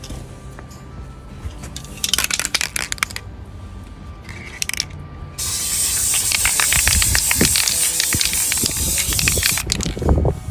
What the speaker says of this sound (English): I am gonna spray the front now that that's dry.